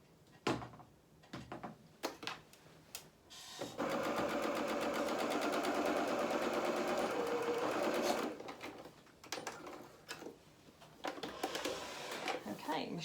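A sewing machine stitches the seams of a Chalk and Notch Marcel dress in one steady, fairly loud run of about four seconds, with handling clicks and a voice talking before and after.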